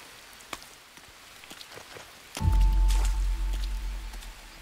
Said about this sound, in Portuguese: vamos ter que esperar parar de chover então, pessoal